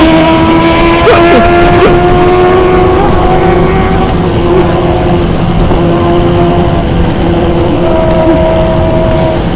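A Suzuki Raider motorcycle engine screams at high revs, a loud sustained whine that shifts pitch as it races, close and continuous with no pauses.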